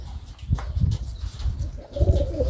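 A 22-year-old pigeon coos in low, repeated throaty pulses close by, with a soft rustle of movement.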